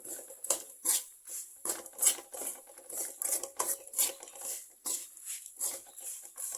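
Spoon scraping and tapping in a pan as coriander powder is stirred and roasted, quiet irregular clinks and rustles close by with no talking.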